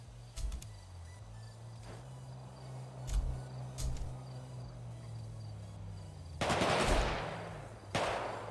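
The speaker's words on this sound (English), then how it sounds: "I hear gunshots" Several sharp video game gunshots at irregular intervals, including a louder burst near the end, over a low steady engine hum.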